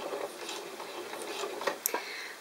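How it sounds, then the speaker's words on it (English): Sewing machine running a short lock stitch on fabric, faint quick ticking and pattering of the needle mechanism in a quiet room, with a few sharper clicks toward the end. "Now if your machine allows it, do a lock stitch like this."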